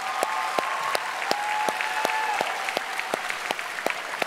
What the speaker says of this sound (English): Can we give everyone a round of applause that was a part of that?